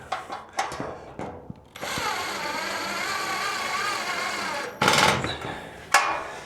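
A power tool whirs continuously for about three seconds while driving fasteners during a van bulkhead install, close and fairly loud, framed by scattered clanks and handling noises before and after.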